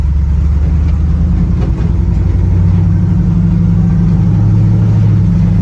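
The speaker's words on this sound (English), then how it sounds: "We're gonna see if it shifts for the first time." A 1970 Chevrolet C10 pickup with a newly tuned transmission, its engine droning loudly and steadily close by as it drives, the pitch shifting slightly partway through as a gear change occurs.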